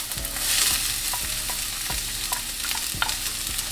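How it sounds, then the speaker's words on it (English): Onions and garlic sauté in olive oil in a pan for stuffing to go with lobster, a bright close sizzle broken by repeated stirring scrapes of a utensil against the pan, with no talking. "I am going to then saute up some onions and garlic"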